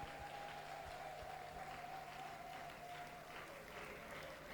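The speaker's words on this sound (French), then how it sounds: "Si vous les avez aimés, veuillez acclamer." An audience applauds at an Easter resurrection school festival after orchestra performances, a faint, distant, continuous patter of clapping with a steady tone running underneath.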